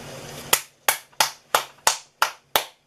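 Single person clapping slowly, about eight sharp, separate claps in a steady rhythm, close and crisp, with near silence between them and no talk.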